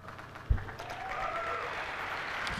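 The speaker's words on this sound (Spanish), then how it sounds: "ahora aplauden porque son fans de Apple" Apple fans in an auditorium clap for Steve Jobs at a keynote presentation, a soft, distant patter of applause swelling after a sharp thump and holding steady at low level to the end.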